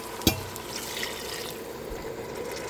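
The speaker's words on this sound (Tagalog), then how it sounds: "Lagyan po natin siya ng tubig" Water poured into a cooking pot holding squash and eggplant seasoned with fish sauce, a soft steady splashing flow after a brief knock, continuous and fairly quiet.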